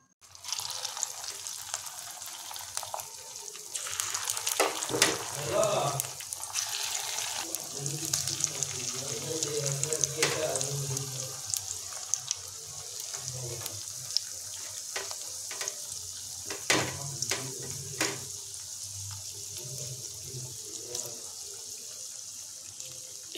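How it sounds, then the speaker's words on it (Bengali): Drumstick flower (sajne) fritters frying in oil in a wok, a steady close hiss with crackling bursts and scattered sharp clicks, running throughout with no talk. "এইভাবে আমরা এগুলোকেও ভাজা করে নেব"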